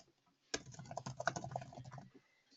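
Rapid clicking of keys as a report name is typed on a computer keyboard, a dense two-second burst of close, crisp keystrokes starting abruptly and tapering off, with no talking.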